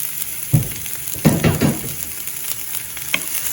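Onion, dried red chilies, curry leaves and fennel seeds frying in sesame oil for a Jaffna chutney, with a steady sizzle and a few louder scraping stirs of the pan, close and without talk.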